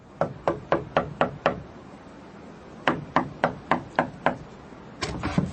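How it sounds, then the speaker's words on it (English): Knuckles rap on a cottage door in three bursts of sharp, evenly spaced knocks, five or six to a burst, loud and close with a slight wooden ring and no voices. "went across to the cottage and knocked on the door"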